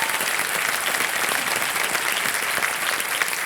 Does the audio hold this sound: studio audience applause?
yes